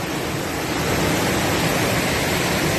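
Heavy waterfall on the Appalachian Trail, a loud, constant broadband roar of falling water close by, unbroken and steady from start to finish with no voices.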